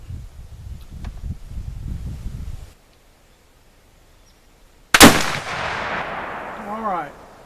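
A single loud muzzleloader shot from a Traditions Vortek Northwest, loaded with black powder, two .45 caliber 777 pellets and a saboted bullet, cracks sharply after low rumbling and a quiet pause, then rolls away in a long echoing tail.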